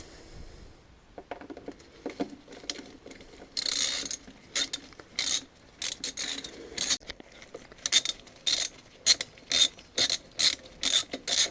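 A ratchet works loose the brake caliper bolts on a BMW R1150RT motorcycle. Close, crisp clicking strokes come in a steady repeating rhythm that gets more regular and louder as it goes, with no talking.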